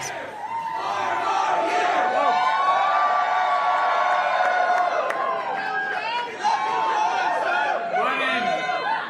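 Cheering DNC volunteers fill a packed hotel ballroom at a politician's appearance, a steady wash of crowd noise and whoops with voices talking over it.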